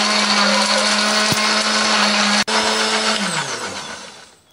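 A kitchen blender grinds shallots, garlic, turmeric and coriander with a little water in a loud, steady whir that winds down at the end.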